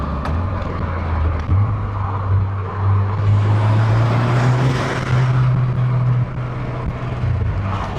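Car fitted with a GFB DV+ diverter valve on a CTS turbo inlet pipe, heard as a steady, loud engine drone with rising turbo rush through the middle and no distinct blow-off burst.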